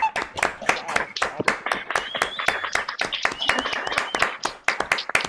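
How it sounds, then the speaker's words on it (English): An online audience unmutes and applauds after a digital concert, a dense patter of many overlapping hand claps at close range, with scattered cheers and whistles woven through. "please help me thank our special guests today, Paula and Jane, by unmuting yourself and applauding like crazy"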